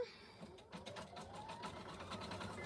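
A sewing machine stitches a name badge with a rapid, even mechanical chatter of needle strokes, close up and fairly quiet.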